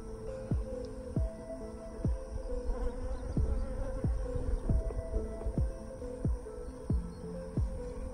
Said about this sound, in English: Bees are starting to fan actually.